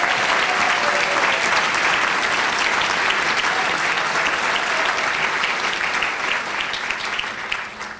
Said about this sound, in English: So please, can we give her a round of applause?